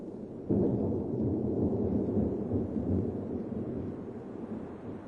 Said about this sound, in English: A tropical thunderstorm in the catchment area pours millions of liters of water into the river.